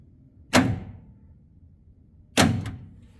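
Two sharp mechanical clunks from the power door lock actuator of a 1976 Plymouth Gran Fury wagon, locking and unlocking about two seconds apart, close and distinct against a quiet background.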